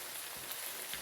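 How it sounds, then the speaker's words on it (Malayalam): Chili, coriander and turmeric powders stirred into sautéed onions in a pan, a soft steady sizzle with a brief scrape of the spoon near the end. "ഇനി നമുക്ക് മുളക് പൊടി, മല്ലിപ്പൊടി, മഞ്ഞൾപ്പൊടി ഇട്ട് കൊടുക്കാം."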